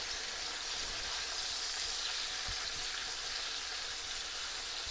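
Chicken searing in a cast iron pan gives off a faint, steady sizzle and hiss with an occasional soft pop, heard close and alone.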